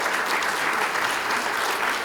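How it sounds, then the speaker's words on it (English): Dense audience applause at a plenary session, a steady and fairly loud wall of many hands clapping with no gaps. "I want you to clap more"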